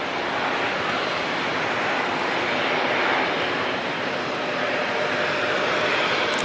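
Airliners at Auckland Airport, including an Air New Zealand flight to Brisbane and a Qantas flight to Sydney, taxiing and taking off, heard as a steady, dense broadband jet roar that holds evenly loud throughout.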